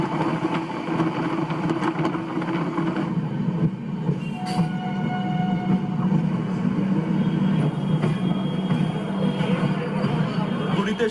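A Sealdah-Patna express train pulls into Kharagpur railway station, heard from inside an air-conditioned coach as a steady low rumble of wheels and carriage noise, with faint brief squeals, running continuously throughout.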